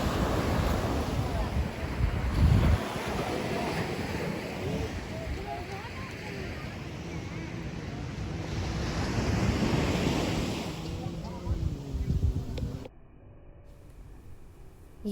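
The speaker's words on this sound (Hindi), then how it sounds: "यहाँ की लहरें भी बहुत ही अच्छी लग रही थी।" Ocean waves wash steadily onto Dhanushkodi beach near Rameshwaram under heavy wind buffeting the microphone, a continuous loud surf that cuts abruptly to a quieter hiss near the end.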